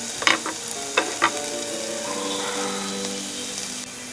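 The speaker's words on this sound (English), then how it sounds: "once you let your onions cook, they should almost look see-through." Onions and rice sizzle steadily in a hot pan, a close, continuous frying hiss broken early by a few sharp utensil clinks and stirring scrapes.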